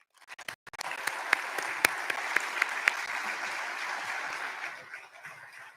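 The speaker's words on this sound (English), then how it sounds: "let's give a raucous round of applause for our president," Audience applause for a university president at a fall address, a fairly quiet, steady patter of many hands with a few sharper claps standing out, continuing for several seconds before tapering off.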